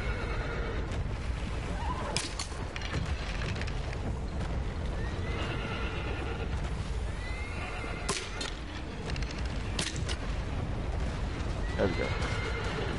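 Horse whinnies and hoof clip-clops in the video game Shadow of the Colossus, several brief neighs scattered over a continuous game soundscape, with a person talking at times.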